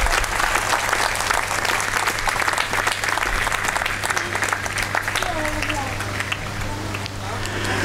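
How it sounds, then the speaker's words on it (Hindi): Loud, dense applause from a congregation at a Eucharistic thanksgiving Mass for a newly ordained priest, steady throughout with a low hum beneath and a voice faintly emerging toward the end. "तो आइए इस नौजवान काहिन को जोरदार तालियों से मुबारकबाद पेश करें।"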